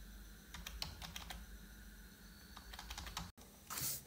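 Credit card number typed on a computer keyboard, heard as quiet, close bursts of rapid key clicks over a soft steady background hum, with a brief dropout near the end and no talk.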